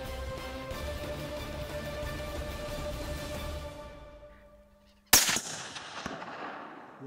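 A single loud rifle shot cracks out at a buck about 200 metres away on a New Zealand hunt, a sharp blast with a trailing echo after a steady outdoor hum.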